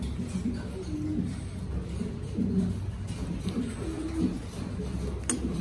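Mondain pigeons coo in low, soft, repeated rolling calls, close by, over a steady background hum.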